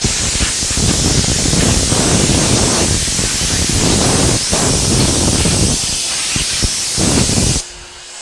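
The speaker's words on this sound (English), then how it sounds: "The first step is going to be blowing all the dust off." Compressed air blasts dust off a sanded panel in a loud, continuous hiss with slight fluctuations, close to the microphone, then cuts off abruptly near the end.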